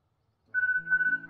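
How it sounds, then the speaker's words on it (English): A timer alarm goes off in a quiet room, a steady electronic tone that starts abruptly and holds with slight pulsing, fairly faint and alone. "And that is the sound of my timer going off"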